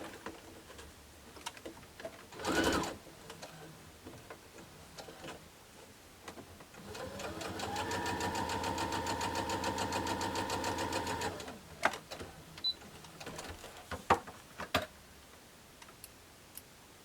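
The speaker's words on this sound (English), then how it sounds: "And we'll sew these together." A sewing machine stitches quilt pieces together in one steady four-second run of rapid, even ticking, with a brief clunk before it and scattered soft handling taps afterward, heard close in a quiet room.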